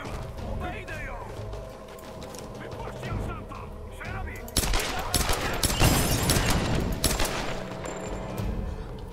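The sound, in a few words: gunfire in the video game Tomb Raider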